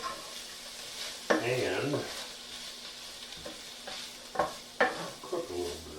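Chicken fried rice with carrots and peas fries in a pan with a continuous sizzle and scraping stirs, while a voice speaks briefly over the cooking.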